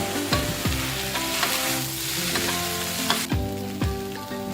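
Vegetarian Malaysian mee goreng sizzling in a hot pan as sweet kicap manis is added, with continuous frying crackle and intermittent stirring scrapes and clanks.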